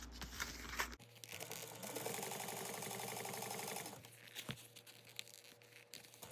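Sewing machine topstitching the lining of a backpack, a fast continuous mechanical whir of the needle running for a few seconds, bracketed by quieter handling clicks and rustles, no talking.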